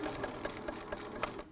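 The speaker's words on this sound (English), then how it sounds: "all machines have a back stitch, so to reinforce the elastic, I just back stitched there" A sewing machine back stitches elastic onto a t-shirt face mask, running in a quick, steady mechanical patter of needle strokes, close and even, with no voices.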